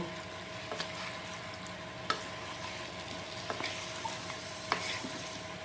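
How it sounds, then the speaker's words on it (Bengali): Chicken pieces stirred into curry gravy in a pan make soft, scattered spoon scrapes and clicks over a faint, low simmering sizzle, heard quietly and close up. "আর এখন চিকেনগুলো ভালো করে গ্রেভির সাথে মিক্স করে নেব।"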